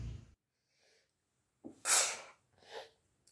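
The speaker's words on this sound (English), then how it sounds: "is sneezing a bad omen?" A single sharp sneeze bursts out after a faint intake of breath, loud and close, followed by a softer snort-like exhale; no talk.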